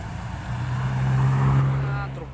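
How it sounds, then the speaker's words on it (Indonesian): Hino trailer truck hauling a 60-ton Kobelco crane climbs a steep incline, its engine a loud, close, steady low drone that swells and fades over a couple of seconds. "Nah, truk trailer mendaki tanjakan"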